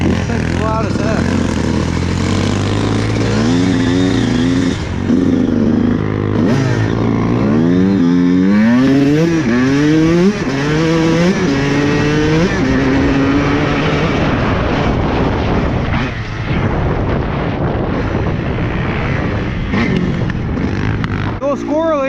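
A dirt bike with a loud White Brothers exhaust revs up and down in rising and falling sweeps, loud and close, with people talking over it throughout.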